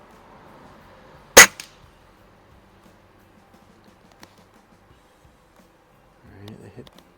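A single sharp, close crack from a Daisy Model 131 .177 break barrel air rifle firing a pellet, followed by faint clicks and quiet handling noises, with a brief rustle near the end.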